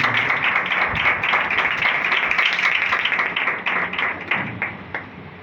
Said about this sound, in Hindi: खुदा के लिए जोरदार तालियां।